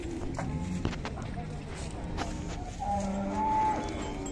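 A cow moos twice, a long low call starting near the middle and a second following, close and moderately loud over faint background noise.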